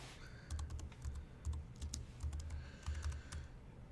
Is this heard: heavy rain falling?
no